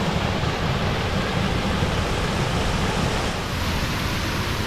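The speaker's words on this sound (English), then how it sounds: "So this is just above the waterfall" The waterfall on the Watkin Path in Snowdonia gives a steady, broad rushing roar of falling water, constant and fairly loud throughout with no voices.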